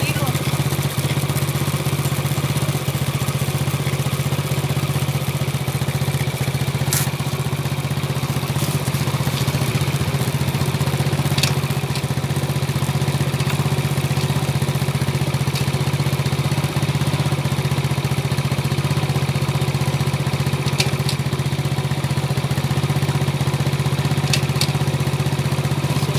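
A motorcycle engine idles steadily nearby, a constant low throbbing rumble with faint clatter, unchanging for the whole stretch.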